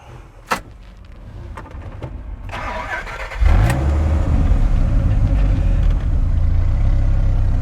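A Dodge Viper, the American sports car, is started: a click and a brief whir of the starter, then the engine catches with a loud, deep bark and settles into a steady, rumbling idle close by.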